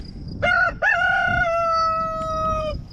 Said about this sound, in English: As we come around, we got the hens over there.